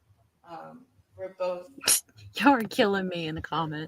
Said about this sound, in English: even your sneeze is insincere